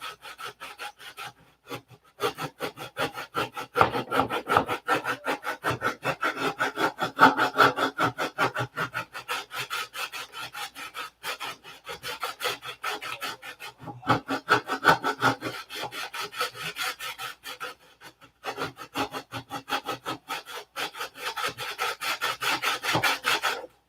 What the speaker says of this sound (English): These are 3/32 sides, so it doesn't leave you a lot of room to sand.